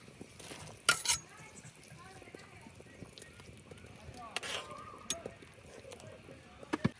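Fried snakehead fish pieces go into a boiling sour green-mango curry in a pot, with soft clinks of a utensil against the pot, stirring and a faint bubbling simmer, while someone talks.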